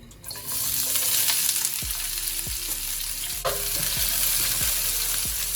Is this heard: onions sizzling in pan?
yes